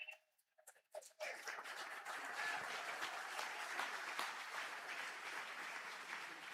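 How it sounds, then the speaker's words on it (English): Applause from the audience at a state party convention begins after a brief pause and a few voices, then holds as a dense, steady wash of clapping from a large crowd across the rest of the stretch. "Let's give him a round of applause."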